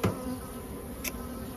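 A steady, close buzz of many honeybees humming together in an open hive, with a brief sharper rise in the middle.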